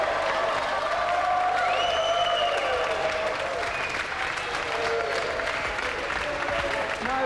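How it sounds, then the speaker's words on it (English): Steady studio audience applause fills the room from start to finish, dense and even in level, on a British computer games television show. "Another round of applause for Pat Sharp and Mick Brown."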